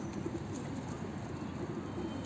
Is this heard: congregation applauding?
no